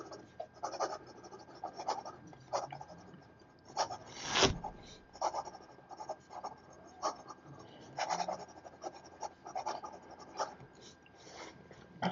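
A Wahl Eversharp Skyline fountain pen nib writing quickly on paper, close and faint, with rhythmic scratchy strokes in quick succession and one louder scrape midway.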